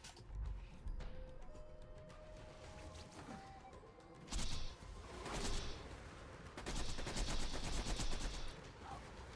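Rapid gunfire from the video game Borderlands 2 during a boss fight against Terramorphous, with dense bursts of automatic shots and impacts continuing throughout, loud and layered over game effects.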